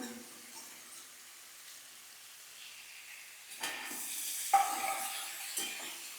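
A hot pan stays near silent, then cauliflower drops in with a sudden rising sizzle and hiss, followed by a clatter as a lid is set over it, the frying continuing steadily.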